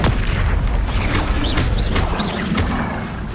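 Incendio fire spell cast in Hogwarts Legacy, a dense roaring burst with crackling booms and whooshing layered over continuous game combat noise.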